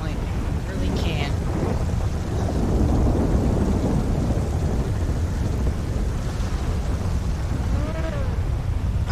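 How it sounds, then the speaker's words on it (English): Steady heavy rain hiss with low rumbling thunder in a GTA 5 storm, continuous and loud across the whole stretch, with brief faint voice-like fragments mixed in. "I can't hear over the thunder and lightning."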